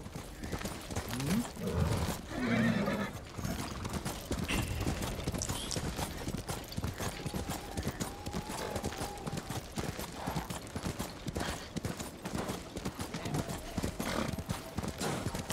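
Horse hooves clip-clopping steadily in the Ghost of Tsushima video game, a brief whinny early on, with mechanical gear-like clatter and game ambience throughout at moderate loudness.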